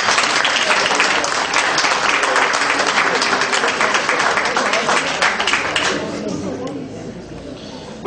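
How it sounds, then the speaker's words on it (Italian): Audience applause at a conference on bergamot citrus in Bova Marina, a dense sustained round of clapping that fades somewhat toward the end. "Un applauso."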